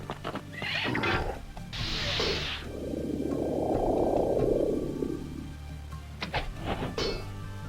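Horse neighing in Heroes of Might and Magic: Ironfist, a long loud whinny swelling and fading over several seconds, framed by shorter sharp bursts and thumps, with no talking.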